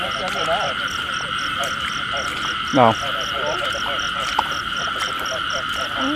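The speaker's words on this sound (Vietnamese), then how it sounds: "con ếch này bự nè" Frogs croak in a rice field beside a hospital in Soc Trang at night, with repeated close croaks over a constant high insect drone, and a person says a word briefly.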